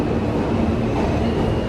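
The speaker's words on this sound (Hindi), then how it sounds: "अभी एक मेट्रो आ चुकी हुई है, ट्रेन दूसरी साइड पे भी आ गई है" A New York subway train pulls into a station with a loud, continuous rumble of wheels and motors, close by and filling the space, with no voices.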